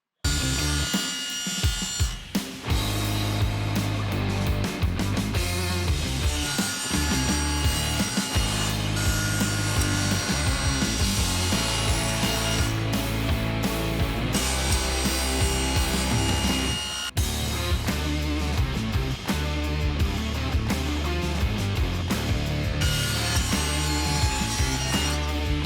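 Wood panels for a Bluetooth speaker box being cut with a saw, a loud continuous rasping buzz with shifting pitch that runs nearly throughout and drops out briefly a few times, with no talking.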